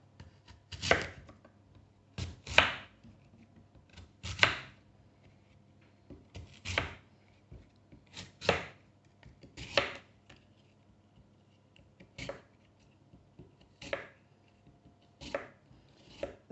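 Knife chopping food on a cutting board while preparing low-carb snacks: about a dozen crisp, close chops in an uneven rhythm with short pauses between them, and no talking.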